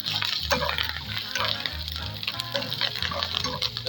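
Curry leaves crackling and sizzling in hot oil in a pan of frying beef liver, a loud, busy spatter with stirring scrapes, close up and without voices.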